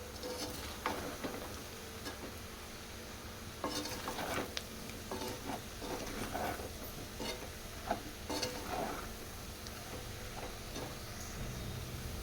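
A spoon scrapes and stirs potato curry in a pan after salt and chili powder go in, giving irregular clinks and scrapes over a soft, steady sizzle, with no talking.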